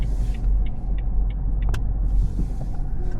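Car driving toward a supermarket, with a steady low engine and road rumble throughout, a few faint clicks and rattles over it and no talking.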